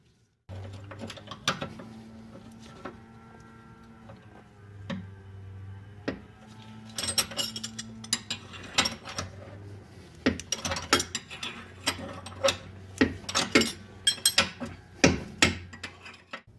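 Ratchet wrench clicking as it backs out a 19mm fastener on the lower control arm of a Nissan Altima or Maxima, with bursts of rapid close metallic ticks over a low steady hum.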